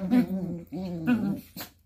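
A dog whimpers in a few short, high, whiny bursts close by, with brief pauses between the cries.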